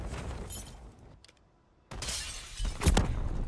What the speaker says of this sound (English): Glass broke and I fell.